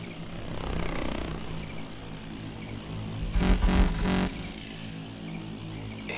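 A hostile drone flies nearby in Call of Duty: Advanced Warfare, a low mechanical hum drifting past with a louder whooshing surge in the middle before fading back to a quiet drone.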